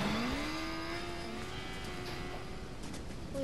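A motorbike engine in the video game Fortnite drones steadily, its pitch climbing at the start and then holding as the bike rides along, with no talk over it.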